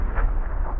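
A grenade explosion in a video game firefight, a short, muffled, low rumbling blast with no voices.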